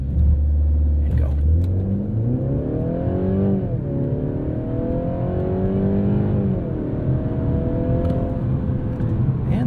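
A 2022 Mercedes-Benz C300 4MATIC mild-hybrid sedan accelerates hard from 0 to 60, its engine note rising steadily through several gear changes with a loud, continuous rumble heard from inside the cabin.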